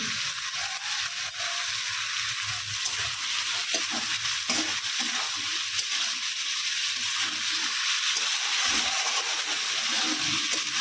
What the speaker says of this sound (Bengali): এবারে এটাকে একটু ভালো করে কষাবো তেল ছাড়া পর্যন্ত